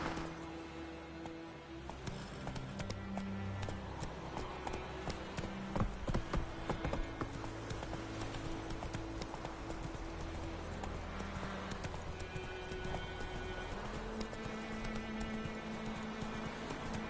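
Hooves of Roach, a horse in the video game Witcher 3, clip-clopping in a steady rhythmic gait over a continuous bed of game music and ambience for the whole stretch.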